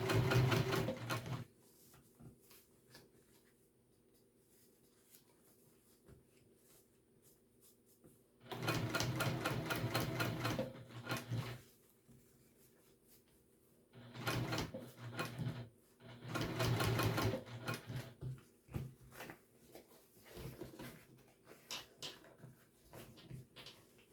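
Sewing machine stitching a pack, running in short rapid bursts of dense mechanical clatter separated by quiet pauses, close and fairly faint with a low hum between runs.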